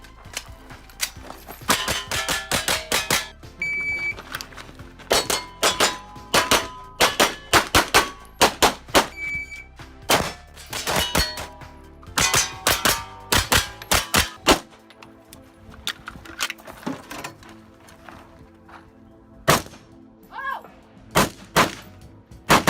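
Gunfire at a shooting range during firearms training, sharp loud reports in irregular clusters with metallic clangs and rings between them, heard over a low steady background.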